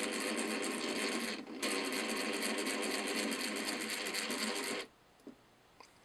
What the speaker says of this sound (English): So we got a working air compressor.